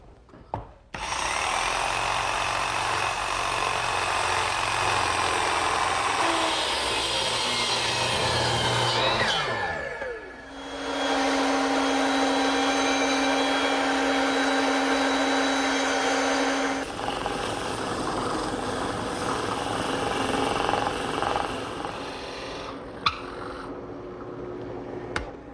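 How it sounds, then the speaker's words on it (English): A jigsaw cuts out the inside of an oak handle clamped in a bench vise, a loud continuous buzzing rasp with the pitch shifting midway as the blade changes pace, then a brief stop and more cutting to the end. "Now I'm going to clamp it in my bench vise and cut out the rest of the inside with the jigsaw"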